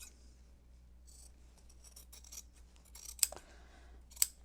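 Scissors trim a quilt fabric seam down to a quarter inch, with faint snipping and two sharp, close cuts near the end against a quiet background.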